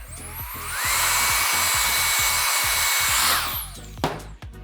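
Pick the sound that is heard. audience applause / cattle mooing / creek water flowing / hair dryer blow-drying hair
hair dryer blow-drying hair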